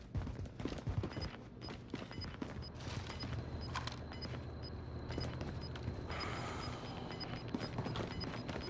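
A decoy grenade in Call of Duty Warzone fires fake gunfire, heard as bursts of rapid pops and cracks mixed with game background noise and some distant mechanical clatter.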